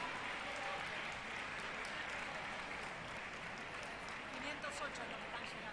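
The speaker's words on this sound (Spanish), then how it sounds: "El aplauso nuevamente para todos los proyectos que nos van a estar representando en La Pampa." Audience at a technology fair awards ceremony applauds steadily for school projects, a dense, continuous wash of clapping from a crowd without letup.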